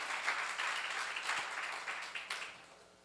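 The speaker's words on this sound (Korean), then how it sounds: "여러분 마음도 평화가 와야 참 크리스찬인 걸 믿으시면 박수로 하세요" A church congregation at a seminar applauds, a dense round of clapping that swells and then gradually fades, moderately close in a room.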